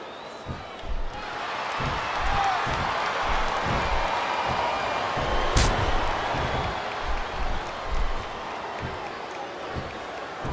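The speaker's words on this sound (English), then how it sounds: "Listen to the crowd, JR. I think they've got something to say to these superstars." Wrestling arena crowd roaring during a WWE tag-team handicap match, a broad steady wall of cheering with scattered claps and occasional thuds from the ring, talk faintly mixed in.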